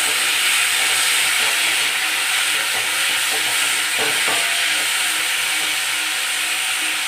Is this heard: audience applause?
no